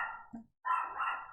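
A dog barks faintly in the distance, two muffled barks separated by a short pause.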